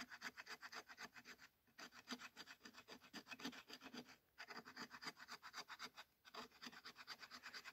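The ninety-degree spine of a knife scrapes rhythmically along a piece of fatwood to raise fine shavings. The quick, rasping strokes are quiet and close, broken by two short pauses.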